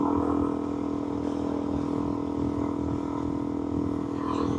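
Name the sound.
Yamaha XSR 900 motorcycle, limited edition black and gold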